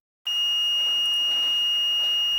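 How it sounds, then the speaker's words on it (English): A digital multimeter set to continuity mode, testing the wiring of an EGO cordless lawn mower, lets out one steady high-pitched beep that starts abruptly and holds without a break. "If you can hear the beeping sound"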